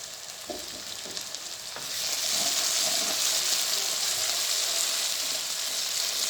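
Black cardamom, cinnamon and cumin hit hot desi ghee in a pan of Punjabi gobhi aloo with browned ginger, and a steady, loud frying sizzle rises sharply and holds without talk.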